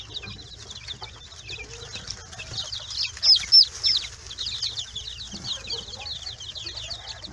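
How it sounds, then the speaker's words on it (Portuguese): A brooder full of more than forty baby chicks and a single quail peep constantly in a thin, high chorus, with a few louder chirps standing out midway, close and steady. "44 pintinhos, mais uma codorna."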